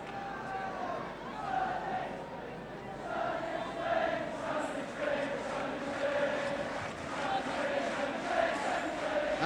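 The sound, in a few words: Welsh football crowd chanting sunny Spain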